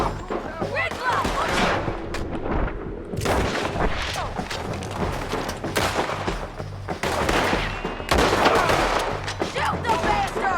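Shootout in Red Dead Redemption 2 with dense bursts of gunfire: repeated close shots and volleys crackle steadily throughout, mixed with shouting voices and a busy battle din.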